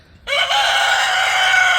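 A backyard rooster gives one long crow, loud and close, starting suddenly after a brief quiet moment and holding steady to the end. No one talks.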